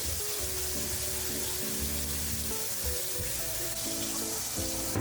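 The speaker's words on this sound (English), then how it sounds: "Rinse with cold water." Cooked pasta being rinsed under cold tap water in a kitchen, a strong, steady rush of water with sizzling-like hiss and hard clatter, close and loud, no voices.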